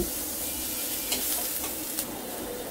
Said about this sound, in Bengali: পেঁয়াজটা একটু বেশি করে ভাজবো